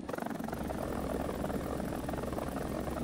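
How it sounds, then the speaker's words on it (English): A Ka-52 attack helicopter in a military video game gives a steady, dense rotor and engine drone that holds at an even level throughout, with no talk over it. "Get the chopper ready."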